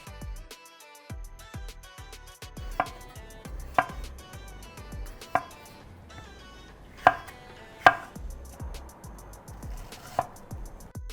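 Button mushrooms are chopped on a cutting board for shakshuka, with a series of sharp knife strikes at irregular intervals, some louder than others, close and clear with no talking.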